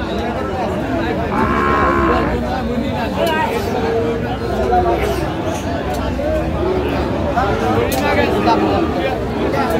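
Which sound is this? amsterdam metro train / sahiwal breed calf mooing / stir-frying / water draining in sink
sahiwal breed calf mooing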